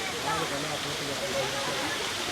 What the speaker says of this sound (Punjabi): ਆ ਗਿਆ ਮੈਨ ਮੇਡ ਝਰਨਾ